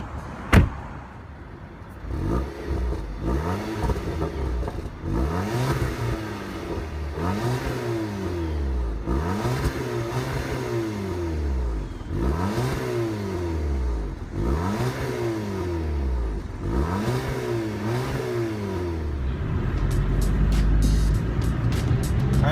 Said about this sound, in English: Let's start up the TT and hear what that exhaust note sounds like.